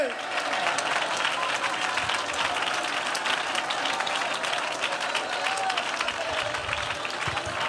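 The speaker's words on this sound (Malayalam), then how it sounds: "കൈയടിക്കുന്നേ, നല്ല കൈയടിക്ക്." A church congregation applauding, dense sustained clapping from a large crowd filling the whole stretch evenly, with voices mixed in underneath.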